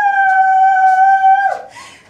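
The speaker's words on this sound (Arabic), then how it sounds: "زغرت من غير ما اخد بالي." A woman's zaghrouta ululation at a wedding celebration, a loud, steady high-pitched trilling held for about a second and a half before breaking off, alone and close.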